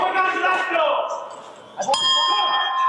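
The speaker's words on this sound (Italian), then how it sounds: "Eccolo qui il gong che va a chiudere la prima delle 3 riprese tra Ilenia Pileri e Giulia Palazzo" A bell strikes once to end the first of three rounds at a regional final women's boxing bout, ringing out sharply near the end while an announcer talks loudly throughout.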